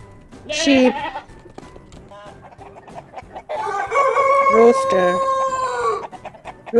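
A rooster crows loudly in two long drawn-out calls, with clucking fowl and a bleating sheep mixed into the farmyard background.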